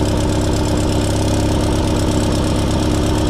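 A Sears SS16 garden tractor engine idles steadily after a cold start at -25°C while overfueling, a loud, close, continuous chugging rumble with a fast regular beat and no pauses.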